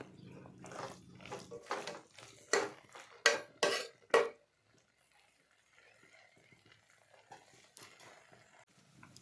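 A spoon mixes cooked rajma beans in a pressure cooker pot, with several loud metal clanks and scrapes in quick succession, then near silence with faint rustling.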